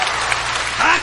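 A brief, dense burst of audience applause at a stage event, with a voice briefly rising over the clapping near the end.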